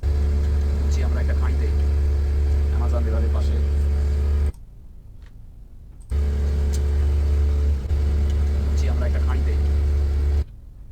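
A motorboat engine drones loud and steady as the boat heads up the Amazon river in Peru. The engine drops away for about two seconds in the middle, then resumes, with voices faintly over it.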